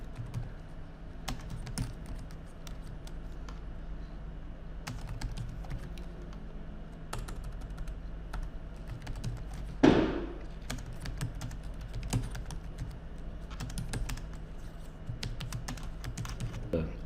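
A letter being typed on a computer keyboard: a steady stream of close, crisp key taps with a few louder thunks, one sharp knock near the middle, continuing without pause and without talk.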